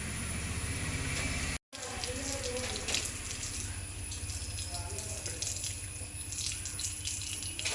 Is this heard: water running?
yes